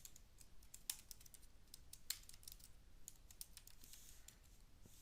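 Faint, distant typing on a computer keyboard, scattered light key clicks in an uneven rhythm with a couple of sharper taps, over a quiet room hiss.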